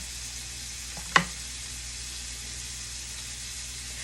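Seafood sizzles steadily in a hot pan, a soft continuous hiss with one brief clink or stir partway through, close and fairly quiet.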